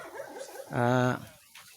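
A dog lets out a single short, strained whine, loud and close, between softer snuffling sounds outdoors.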